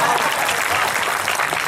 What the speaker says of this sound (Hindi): थोड़ा अपने तालियों का घनत्व और बढ़ाइएगा।